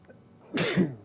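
One short, sharp sneeze, mid-loudness and close, from a man in a courtroom, following a soft faint murmur.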